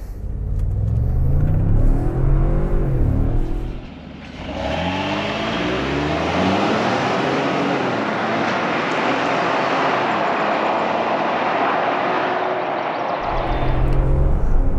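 A 2022 Ford F-150 Tremor EcoBoost pickup in sport mode launches from a stop. The engine climbs through rising revs, and after a shift a loud, sustained acceleration roar with dense exhaust rumble is heard from inside the cab.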